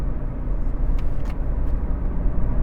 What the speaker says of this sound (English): Just take you for a quick drive up the motorway.